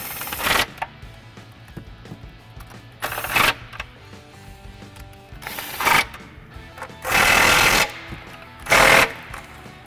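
Hand tool tightening spark plug bolts on a Nissan Frontier 4.0L V6, heard as several short bursts of loud rapid ratcheting, close by and separated by quiet gaps, with no talk.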